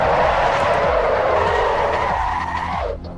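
Car tyres skid and squeal loudly in a sustained oversteer slide during an Assetto Corsa EVO race, the screech holding steady before tapering off at the end under engine noise.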